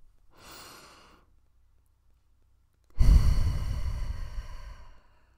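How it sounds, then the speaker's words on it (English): A person takes a slow, deep breath, a soft inhale followed after a pause by a long, loud exhale close to the microphone. "So take a deep breath with me."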